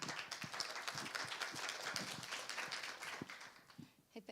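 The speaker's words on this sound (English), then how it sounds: "So please welcome her with a big applause." A conference audience applauds a speaker, giving faint, steady scattered clapping from many hands that thins out toward the end.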